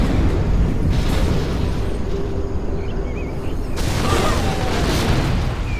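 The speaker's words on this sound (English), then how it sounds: "We have launched our nuclear missile." A nuclear missile launches in Command & Conquer Generals Zero Hour, a loud, continuous broadband roar and rumble that holds steady for several seconds, with a faint game voice underneath.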